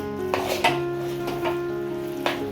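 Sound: goda masala spice paste frying in oil

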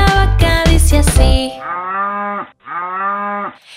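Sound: cow mooing

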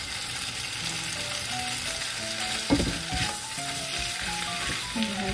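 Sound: wide fresh noodles stir-frying in a pan

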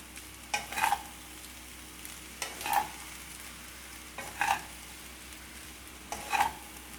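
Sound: stirring gobi fried rice with spring onion greens in pan

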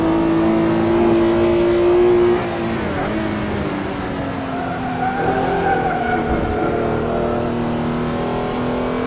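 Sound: Porsche 911R accelerating at Nurburgring, GT Legends video game

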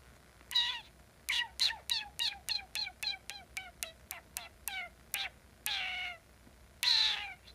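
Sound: lip noise imitating a cat meow

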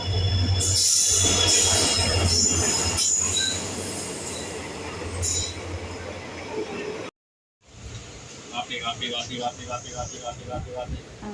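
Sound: train arriving at station

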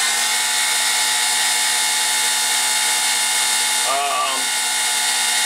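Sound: Sieg X2 mini mill CNC spindle running

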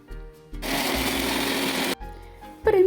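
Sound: blender chopping onions and apples

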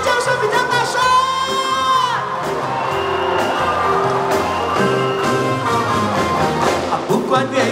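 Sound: concert crowd screaming and cheering

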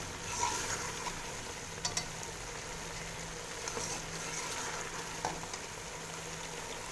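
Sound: cauliflower and potatoes frying in ghee

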